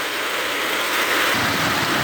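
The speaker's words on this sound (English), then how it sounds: "We're getting quite a rainstorm out there." Heavy rain from a rainstorm pours down outdoors as a steady, dense wash of noise that swells slightly louder partway through, with no voices.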